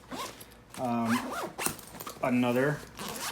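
A zipper on a small bag pocket is pulled in short raspy bursts, close by, with someone talking intermittently over it.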